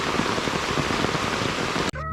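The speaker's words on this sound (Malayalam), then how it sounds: "നമ്മളെ ഒരു ചെറിയ മഴ പെയ്തേക്ക് കുറച്ച് വെള്ളം കെട്ടി." Light rain falls steadily on wet concrete at a backyard aviary and pond construction site, a dense continuous patter that cuts off abruptly just before the end.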